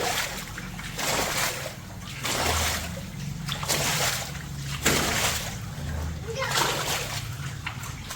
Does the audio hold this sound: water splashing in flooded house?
yes